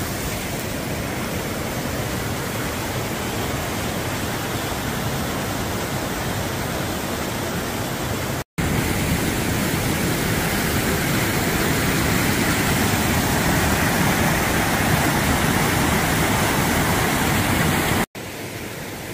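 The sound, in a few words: small waterfall on the West Highland Way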